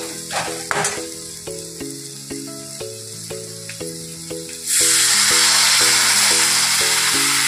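Spices frying in a hot pan with cinnamon powder crackle softly under quiet clinks and stirring, then water poured in sets off a sudden loud, sustained hiss of steam and sizzle that fills the rest of the clip.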